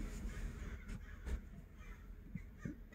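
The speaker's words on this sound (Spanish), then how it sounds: "hay muchísimo cuervo de ese negro, pero muchísimo" Many black crows along a California seaside caw repeatedly, harsh calls scattered at mid distance over a faint outdoor background.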